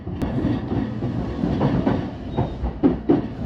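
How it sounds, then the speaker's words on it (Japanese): A rapid train pulling into Tachikawa station in Tokyo's Tama area, with wheels rumbling and clacking over rail joints and sharp metallic clunks near the end as it slows, heard from close by. "まもなく電車は多摩地区最大のターミナル駅、立川駅に到着する"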